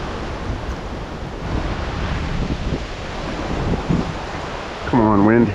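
Wind buffeting a microphone outdoors while trout fishing, a constant low rumbling roar with gusty surges, and a voice rising briefly at the end.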